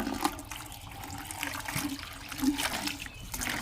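Water from a garden hose splashes and trickles into a bucket while rinsing it out, a steady moderate rushing with small gurgles and no talking.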